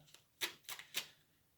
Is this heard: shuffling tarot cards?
yes